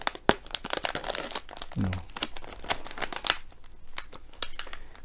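A resealable plastic bag holding a metal diamond painting pen is pulled open by hand, with repeated crisp crinkles and crackles close to the microphone. A brief spoken word cuts in partway through.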